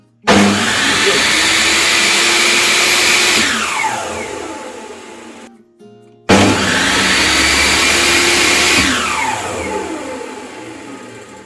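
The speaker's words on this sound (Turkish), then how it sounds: "Gördüğünüz gibi motor bir anda çalışmaya başlıyor." An electric motor on a table saw starts up twice, each time surging quickly to a loud steady whine and running for several seconds before winding down, with a short pause between the two runs.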